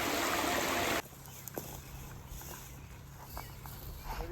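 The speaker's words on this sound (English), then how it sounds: "Getting water to water our orchard that we're gonna plant." Water is collected to irrigate a newly planted farm orchard: a loud rushing pour fills the first second, then cuts off, leaving only faint drips and small knocks.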